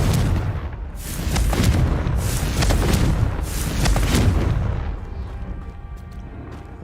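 A Confringo fire spell explodes in the video game Hogwarts Legacy, producing a loud, close series of deep booming blasts and rumbling bursts that fade out over several seconds, with no talking.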